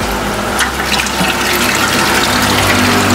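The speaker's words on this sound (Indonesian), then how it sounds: "Ini jadi ketika air surut, ini akan otomatis ngeluarkan air." Water gushes steadily from an automatic float-valve tap topping up a koi pond, a continuous broad rushing splash that stays close and loud throughout with no voices.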